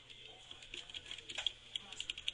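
Computer keyboard typing: quick, light key clicks in an irregular patter, close and fairly soft over a quiet background.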